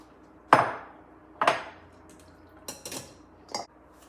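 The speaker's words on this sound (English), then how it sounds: "now I'm just going to strain this. And it is hot." Metal pots clank in a home kitchen while hot posole is strained, several sharp knocks spaced apart followed by a few lighter clinks, close and fairly loud with no talk.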